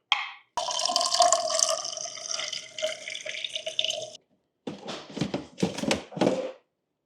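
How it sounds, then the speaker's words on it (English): Water pours from a tap into a 3D printed part, a steady splashing rush that shifts in pitch as the part fills, then stops briefly before a few shorter uneven bursts of pouring and trickling, close and alone. "Let's add some water inside and let's put it into the freezer."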